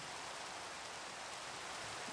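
Rain falling in the Minecraft video game, a steady, soft, hissing wash of drops that stays even and quiet throughout, with no talking.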